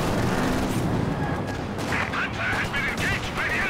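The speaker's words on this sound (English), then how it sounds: "240mm artillery though getting dropped down on it" 240mm artillery shells drop during a Company of Heroes 2 match, a loud, rumbling barrage of booms and gunfire that continues throughout, with whistling tones in the second half.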